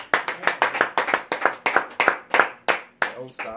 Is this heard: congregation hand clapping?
yes